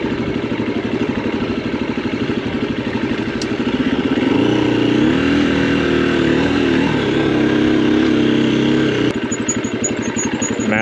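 Motorcycle engine running steadily in low gear while riding down a steep, rutted dirt trail turn, a loud close drone with clattering and a brief throttle change near the end.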